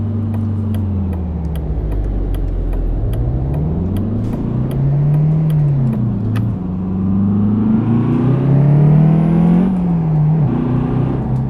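A car with a 150-horsepower 1.4 TSI engine driving in the truck simulator game Euro Truck Simulator 2, its steady engine drone rising and falling through gear changes and revs, loud and continuous with no talking.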